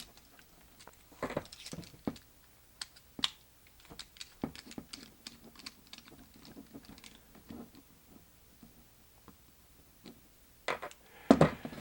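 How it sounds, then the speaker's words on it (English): Small T6 screws being backed out of a Braun Series 7 360 Flex shaver's waterproof case during disassembly, heard as a scattered run of faint close clicks, scrapes and ticks with quiet pauses between them. "Taking out these last 2 screws."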